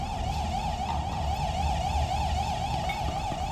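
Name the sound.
siren going off in the video game Control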